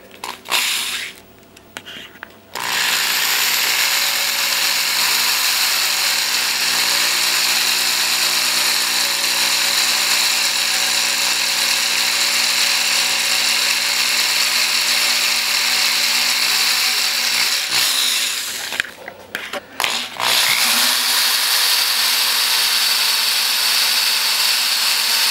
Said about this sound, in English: As you can see, it's drilling a little bit better. This steel plate is extremely hard.